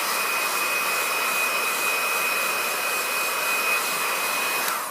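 A heat gun heats vinyl wrap on the bonnet of an Audi R8 GT3, a steady close airy roar with a faint high whine that holds unbroken and then cuts off at the end.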